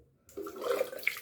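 Water splashes close by as a face is wetted with warm water before a wet shave with a Merkur 34C HD safety razor; a short burst of splashing and dripping begins after a brief silence and carries on unevenly.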